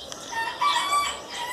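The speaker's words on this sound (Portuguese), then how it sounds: "Você olha essa galaiada ficar cantando, gente?" Several roosters crow at once, overlapping drawn-out calls at middle distance, with no talk.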